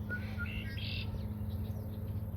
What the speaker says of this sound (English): And the red-winged blackbirds, lots of birds.